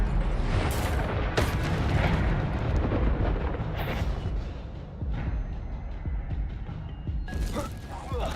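Incendio fire spell bursts in Hogwarts Legacy, a series of loud whooshing, booming blasts layered over dense battle noise and continuous rumbling throughout.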